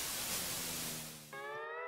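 Faint, steady white-noise static from Welcome To ParadiZe hisses for a moment before a brief buzzing electronic tone cuts in near the end.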